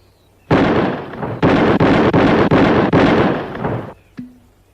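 A burst of rapid rifle shots in a Western shooting contest, about five loud, close blasts in quick succession over roughly three and a half seconds, each blurring into the next, followed by a short metallic ring.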